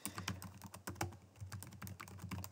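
Rapid, irregular keystrokes on a computer keyboard while email account details are typed in, close and crisp, with short pauses between bursts and no talking.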